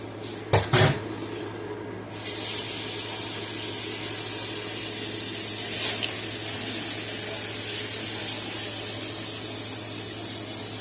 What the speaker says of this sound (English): I can hear it sizzling now.